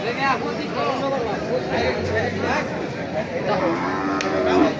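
Cattle low and moo repeatedly at a busy cattle market, several drawn-out calls rising over a steady background of crowd chatter and people talking nearby.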